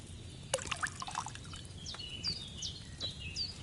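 Wine trickles and pours into a cauldron in the medieval video game Kingdom Come: Deliverance 2, soft liquid dribbling and dripping with faint chirping birds in the background.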